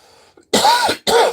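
Two harsh coughs in quick succession, close and loud, preceded by a soft breath, while handling seeds.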